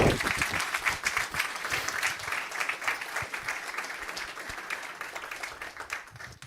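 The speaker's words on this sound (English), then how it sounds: "Then please give another warm applause." A conference audience applauds continuously, a dense crowd of clapping hands at moderate volume that rises and falls slightly but never stops.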